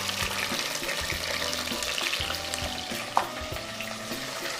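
Onions and peppers sauté in olive oil in a pot, giving a steady close crackling sizzle with occasional stirring scrapes and one sharp clink of utensil against the pot.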